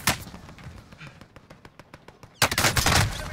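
Video-game automatic gunfire in Warzone: a rapid burst of evenly spaced shots, then a louder, denser volley of shots close up, with some voice underneath.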